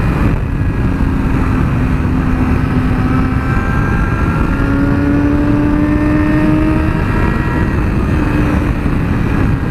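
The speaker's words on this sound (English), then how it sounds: "Let's go down a few cogs. So we're in second." A 2017 Yamaha R6 sport motorcycle engine pulls hard in second gear after a downshift. The note is loud, close and continuous, and its pitch climbs steadily as the engine revs build.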